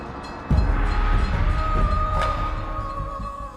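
A passenger train arriving at the St. Moritz station in the Swiss Alps, loud rumbling wheels and rail noise rising suddenly, with a drawn-out squealing brake tone as it slows.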